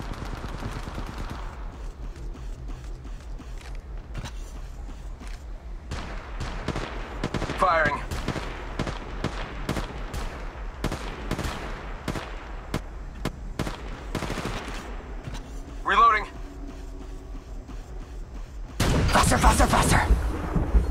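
Rapid gunfire rattles repeatedly through a match of the mobile battle-royale game Apex Legends Mobile, with sustained bursts across the whole stretch and a louder blast of noise near the end.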